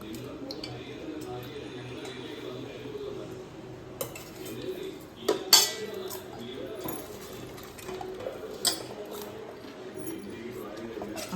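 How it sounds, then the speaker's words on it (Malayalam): A metal spoon clinks and scrapes against a bowl while a mixture for evening snacks is stirred, soft intermittent taps with a few sharper clinks, under ongoing talk. "സ്പൂൺ ഇട്ട് മിക്സ് ചെയ്തോ, സ്പൂണും കൂടെ ഇട്ടു."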